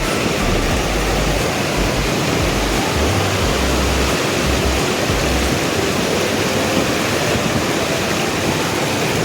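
Rushing river water roars steadily and loud throughout, a dense broadband torrent heard up close during a crossing on the Kareri Lake trek in Himachal Pradesh.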